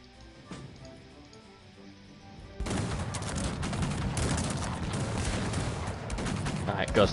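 Musketeers in the strategy game Cossacks 3 let loose a volley: after a quieter stretch, a dense, crackling burst of massed gunfire erupts and keeps rolling as a continuous roar to the end.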